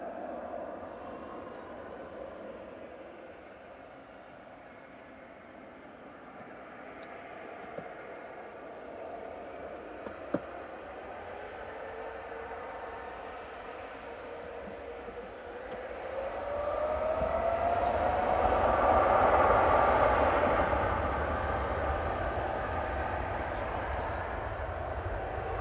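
Airliner A6ETP on its takeoff roll at Manchester Airport, a distant jet engine roar swelling steadily from a low rumble to a loud, sustained peak before easing slightly, with no talk over it.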